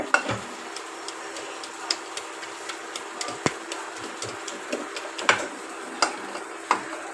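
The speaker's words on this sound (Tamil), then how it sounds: "இப்போ இதை மத்து போட்டு கடைஞ்சிக்கலாம்" Irregular wooden clacks and scraping taps in a pot as a wooden churner mashes cooked drumsticks for South Indian rasam, over a faint steady hiss.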